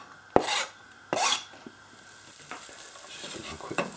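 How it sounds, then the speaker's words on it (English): Onions hit hot oil already seasoned with cumin and paprika, with two sharp scraping stirs in a pan followed by lighter scrapes over a low, continuous sizzle. "So I'm just going to put the onions in."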